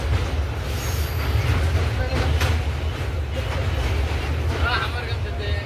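A crowded passenger train, the 06566 Malda to SMVT Bengaluru special, crawls slowly over the Mahanadi river bridge near Cuttack, its wheels giving a steady low rumble heard from inside the coach, with a faint murmur of voices.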